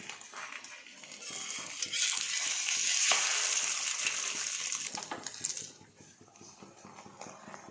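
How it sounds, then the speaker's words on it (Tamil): Egg omelette gravy (muttai kuzhambu) is stirred in a pan, giving a soft bubbling sizzle with scraping strokes that swell in the middle and then fade. The sound is close but fairly quiet. "இந்த ஆம்லேட் குழம்போடு சேர்ந்து நல்லா வேகிற மாதிரி கலந்து விட்டுக்கோங்க."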